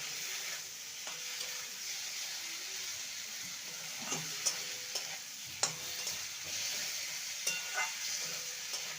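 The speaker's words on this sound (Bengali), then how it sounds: "এবার চিনি দিয়ে ভালো করে নেড়ে আমি সামান্য জল দিয়ে এটাকে কুক করতে দেবো" Bitter gourd being stirred with sugar in a frying pan, a soft continuous sizzle with scattered scraping clicks of the spoon against the pan, close and steady, with no talking.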